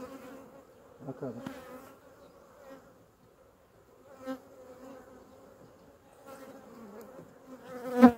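Honeybees buzz around an opened beehive as frames are set in its middle, a close, steady hum with individual bees swelling louder as they pass, with a brief spoken word over the buzzing.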